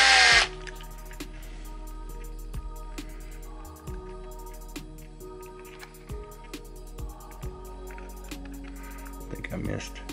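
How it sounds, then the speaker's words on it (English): A power driver running screws back into a TRX4 radio-controlled truck body, with short whirring bursts spread across the clip at close range. "we're just going to run these screws back down"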